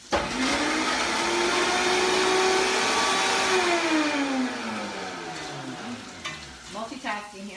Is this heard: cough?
no